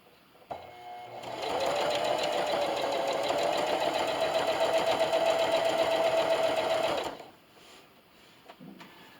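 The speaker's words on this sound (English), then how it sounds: "And then I'm just going to carefully sew all the way down this line." A sewing machine stitches a long seam through a scrappy patch bathmat backed with towel, starting up and running in a steady, fast mechanical whir for several seconds before stopping.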